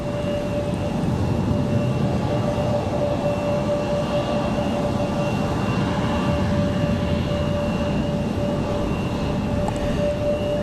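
Airliner taking off from runway 5 left at Raleigh-Durham airport, a loud, steady jet roar that holds close and constant throughout, with a thin whine riding above the broad rumble.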